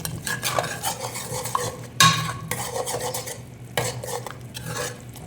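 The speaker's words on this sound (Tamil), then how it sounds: "இப்போ வந்து ஜிஞ்சர் garlic பேஸ்ட் போட்டுக்கலாம்." Ginger garlic paste frying in oil in a pan is stirred with a spoon, giving close scraping strokes over a soft sizzle, with one sharper clink of metal partway through.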